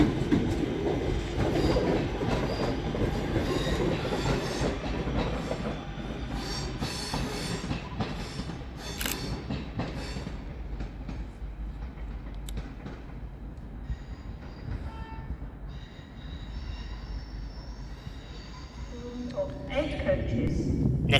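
A Northern Rail Class 323 electric multiple unit departs from the far platform at Crewe station with a steady rumble and clattering wheels that fade out, and a squeal rises near the end.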